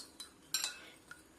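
Spoon clinking and scraping against a bowl while mixing ingredients seasoned with chopped coriander and salt, a few faint, brief metallic taps and one brighter scrape.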